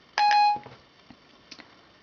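An iPhone 4S gives a bright two-tone activation beep for voice dialing after the home button is held, loud and close, followed by faint clicks and handling noise.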